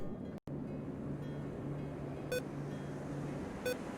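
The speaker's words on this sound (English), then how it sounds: "if you hear any beeps, it's the charger just being a bit silly on me" A buggy laptop charger gives two short, faint electronic beeps spaced about a second apart, over a steady low hum and background hiss.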